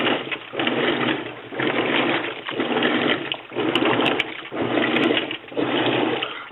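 A faulty washing machine churns through its wash cycle in loud, rhythmic surges, each swish of agitating water and motor lasting about a second with short dips between, heard up close without talk.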